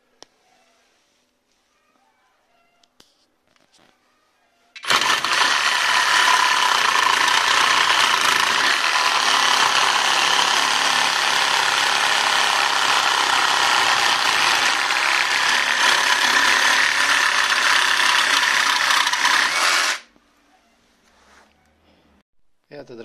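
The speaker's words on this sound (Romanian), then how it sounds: "O mică probă de lucru pentru firăstrău sabie de la Parkside cu acumulator de 4A. Încerc să tai niște cornier." A Parkside cordless reciprocating saw on a 4Ah battery cuts through steel angle iron, a loud continuous buzzing rasp lasting about fifteen seconds and ending abruptly, with quiet handling noises before and after.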